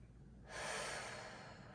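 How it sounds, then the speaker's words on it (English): A single slow breath is taken during a prenatal yoga stretch, a soft, airy exhale rising after a quiet pause and then fading, close and faint with no talking. "take 5 slow breaths"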